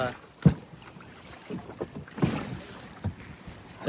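A fishing boat moves across open water, with wind buffeting and irregular splashes and thumps of water against the hull, fairly quiet.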